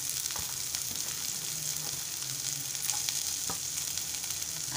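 Finely chopped onion with green chillies fries in hot oil in a pan for Maharashtrian egg bhurji, giving a steady, close, crackling sizzle with occasional stirring scrapes.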